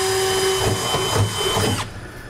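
A power drill whirring steadily as it bores through a 2017 truck bed and its plastic bed liner, a loud continuous motor tone with grinding bites before it cuts off abruptly.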